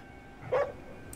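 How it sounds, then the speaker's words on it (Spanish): A single dog barks once, faint and somewhat distant, in Ghostwire: Tokyo, against a quiet background. "¿Quién demonios le ladra?"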